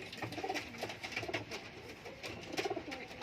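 High flyer pigeons cooing close by, soft repeated throaty coos in short bursts over a quiet background.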